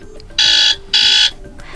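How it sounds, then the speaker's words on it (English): A Motorola Razr 40 phone plays its buzzer alarm ringtone: two loud, steady electronic buzzing tones, each lasting about a third of a second, separated by a short gap, with no talking. "just click on one of those melodies, like for example buzzer"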